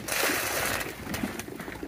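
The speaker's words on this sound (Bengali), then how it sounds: "এটার জন্য একদম পাগল কবুতর, একদম পাগল" Pigeons and their young crowd in close over a scattering of mixed grain feed, soft low cooing mixed with splashy scuffling and wing movement throughout.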